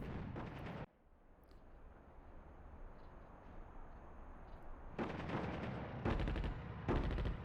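Artillery fire in the real-time strategy game Attack at Dawn North Africa, with a heavy burst of booms, a long rumbling roar, then further loud cracking volleys, dense and close.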